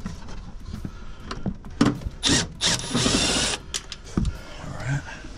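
A power drill whirs in short bursts, backing two screws out of a Suburban furnace access panel, with scraping and rubbing handling noises in between, close by and without talk.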